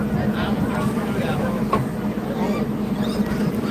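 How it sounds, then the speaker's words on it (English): A train starting to move near the Rocky Mountains, with a steady low rumble and rolling mechanical noise throughout, while people talk over it. "The train is moving."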